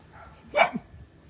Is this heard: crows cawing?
no